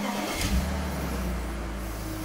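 Car engine cranked on the starter motor while in first gear with the clutch, a low droning motor rumble with a brief bump, close and steady for about two seconds.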